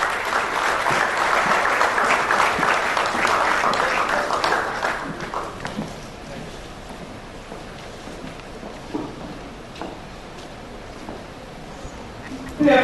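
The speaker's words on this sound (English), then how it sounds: "Please, a round of applause." An audience at the Summit of the Alternatives breaks into a round of applause that swells early, then thins out into scattered claps and quiet room noise before a brief sound at the end.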